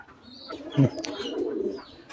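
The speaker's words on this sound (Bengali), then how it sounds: "এই দেখতে পাচ্ছেন আমার খুব পছন্দের একটা কবুতর, এটা হচ্ছে বার্মিংহাম রোলার" A bell-head white-top Birmingham Roller and Giribaj pigeons give brief, low coos close by, with a short louder burst in the middle.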